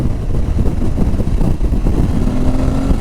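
An Aprilia Tuareg 660 motorcycle accelerating on a breezy road, its engine a steady loud drone heard up close from the rider's position, mixed with wind buffeting, with no talking.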